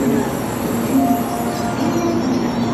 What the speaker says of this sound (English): You see the bullet train